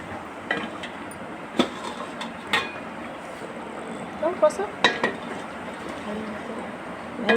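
Potato and pointed gourd curry with fish being stirred in a pan, uneven metallic scrapes and clinks of a spoon against the pan over a soft background hiss.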